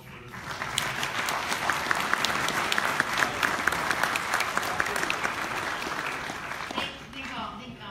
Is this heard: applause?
yes